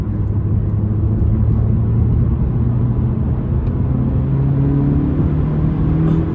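A 2017 Honda Civic Si pulls onto an expressway, its engine droning loudly from inside the cabin, with the pitch climbing steadily as it accelerates over a constant road rumble.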